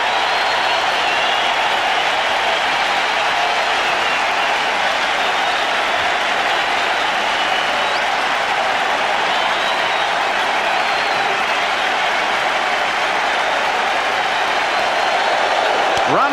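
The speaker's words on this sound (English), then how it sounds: "And now the entire crowd up and at him yet again." A baseball stadium crowd in 1989, with Giants hosting the Cubs in an NLCS playoff game, roars in a dense, continuous wash of cheering and clapping that holds loud for the whole stretch.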